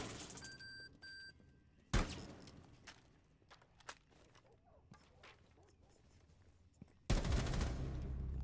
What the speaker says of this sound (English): Oh, I forgot how much recoil this gun has.